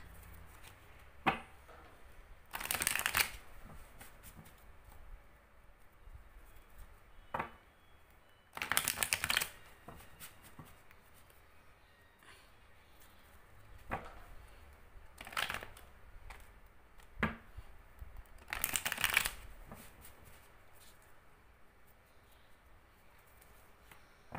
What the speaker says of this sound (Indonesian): Kartunya udah lama banget jadi susah banget ini di shuffle kayak gini.